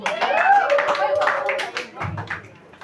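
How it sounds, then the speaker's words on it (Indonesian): Students and teachers in a classroom clap together for one another, a short burst of hand clapping mixed with voices talking and calling out nearby. "Tepuk tangan untuk kita semua."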